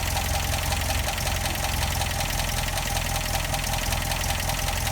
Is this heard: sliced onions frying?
no